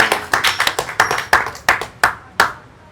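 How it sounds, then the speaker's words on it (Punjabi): A small group claps for an elderly man at home in quick, uneven bursts of loud close hand claps that thin out and stop within a few seconds. "ਤਾੜੀਆਂ ਮਾਰੋ ਵੀ ਬਾਪੂ ਦੇ ਸਾਰੇ ਜਾਣੇ"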